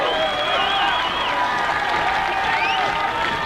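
A baseball crowd at a Yakima Valley Pippins vs Victoria HarbourCats game, bases loaded on a full count, keeps up a steady roar of cheering, whistles and applause that fills the whole moment without a break.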